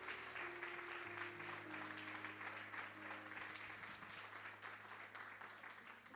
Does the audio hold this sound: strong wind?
no